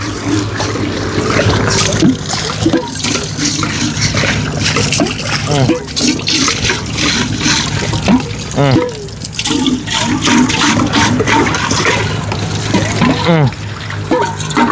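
Water splashes and trickles steadily while a car is washed, loud and close, with people talking over it.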